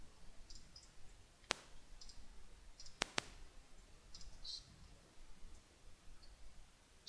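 Mouse clicks while browsing mods in Star Wars Galaxy of Heroes, a few sharp, isolated clicks spaced over several seconds above faint background hiss.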